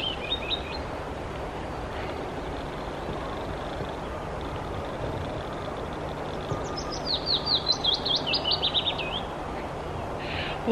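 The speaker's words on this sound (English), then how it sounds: "all the birds are singing" Birds chirp and trill in spring woodland in short repeated bursts over a steady outdoor hiss, one brief call early and a longer run of quick notes later.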